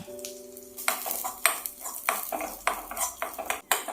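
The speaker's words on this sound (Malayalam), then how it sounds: "ഇനി കുറച്ച് അണ്ടിപ്പരിപ്പ് മുന്തിരിയും കൂടെ ഒന്ന് മൂപ്പിച്ചെടുക്കാം" Cashews and raisins frying in a pan for Malabar thari kanji, stirred with a utensil that clanks and scrapes against the metal in quick irregular strokes over a soft sizzle, close and fairly loud, no voices.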